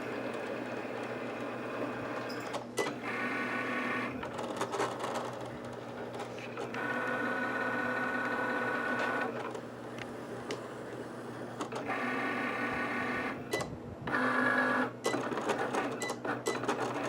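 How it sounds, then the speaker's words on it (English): Cricut cutting machine slicing a blue vinyl square and many small paw-print shapes, a steady mechanical whir and buzz with rhythmic carriage movements and brief pauses, running continuously at close range with no talk. "This is going to cut out, obviously, the blue square. And it's going to cut out all the little paw prints."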